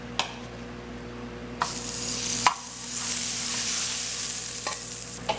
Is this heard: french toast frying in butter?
yes